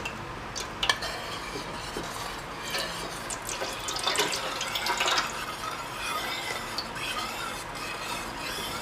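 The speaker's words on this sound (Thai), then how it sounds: "ใส่น้ำยานางลงไปเลย" Yanang leaf juice poured into a pot of curry with cha-om leaves and pork skin, a steady soft watery splash running throughout, with a couple of utensil clinks early on and a slightly fuller surge midway.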